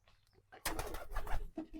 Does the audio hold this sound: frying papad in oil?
no